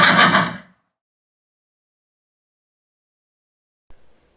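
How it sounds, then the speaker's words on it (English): A single short horse whinny on a farm sounds loud and close at the very start, then gives way to near silence with a faint knock near the end. "If you listen closely, you can hear the horse."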